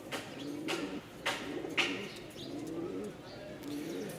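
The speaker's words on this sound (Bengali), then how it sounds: "এই হচ্ছে 2 জোড়া গিরিবাজ।" Two pairs of giribaz pigeons coo softly and repeatedly at close range, with low throaty calls running together and a few sharper rustles and chirps mixed in.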